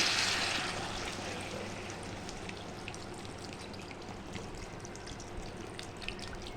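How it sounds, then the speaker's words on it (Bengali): Water pours into a pan of fish curry, a continuous close splashing hiss that is loudest at the start and then settles into a steady bubbling wash with faint drips. "এখন জল দিয়ে দিচ্ছি।"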